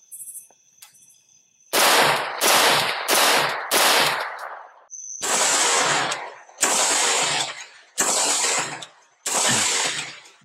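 An AR-15 rifle fitted with a Wheaton Arms muzzle brake firing 5.45 ammo in low light, loud and close, with about eight sharp shots in two quick groups, the later reports ringing longer.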